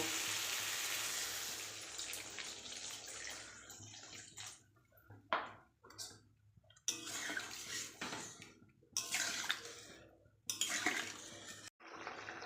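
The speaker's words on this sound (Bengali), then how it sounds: "এবার আমি পরিমাণ মতন জল দেব" Water pours in a continuous hissing stream into a pan of spiced fish curry with beans and eggplant, followed by scattered clanks and scrapes of utensils against the pan.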